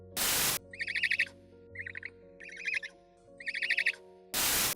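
Three bursts of harsh, raspy trilling screeches from a grey owl, loud and close, with stretches of faint noise between them and bursts of static at both ends.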